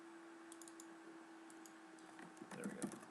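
Faint typing on a computer keyboard while text is entered into a Prezi presentation, scattered light key clicks that grow into a quicker, louder run toward the end.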